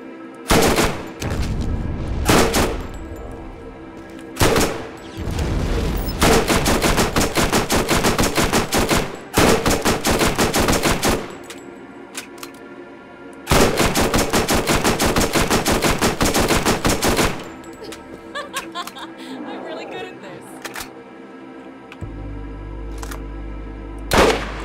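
Sniper rifle gunfire in the video game Borderlands rings out in long, rapid volleys of loud shots separated by brief pauses, with sparse lighter clicks and sounds between bursts.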